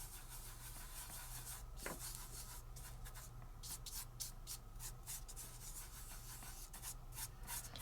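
A fingertip lightly rubs loose glitter across glue on paper, a soft, close, continuous scratchy brushing in short irregular strokes over faint background hum.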